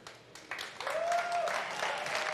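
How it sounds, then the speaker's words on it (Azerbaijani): Audience applause in a studio, fairly faint and scattered, rising after a quiet start and holding steady, with a brief whistle-like tone partway through. "Bir gürültü alqış ediniz"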